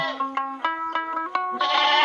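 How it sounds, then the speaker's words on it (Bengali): Goats on a small farm bleat in a quick run of loud, close, wavering calls, one after another, with no talk over them. "আমার ছাগলগুলো সকালবেলা এখনো আমি ছাড়ি নাই"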